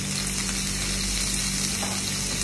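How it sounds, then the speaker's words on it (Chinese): Atlantic cod fillet pan-frying, a steady broadband sizzle with soft crackle running continuously at an even, moderate level with no voices. "咁就煎噶啦"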